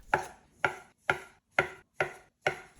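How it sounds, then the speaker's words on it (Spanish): A knife chops through rolls of bun dough for small Chinese meat baozi, cutting them into pieces on a floured board: six evenly spaced, sharp cuts, close and fairly quiet, with no talking. "cuando veo que ya tengo los 8 trozos, ahí es cuando me pongo a cortar"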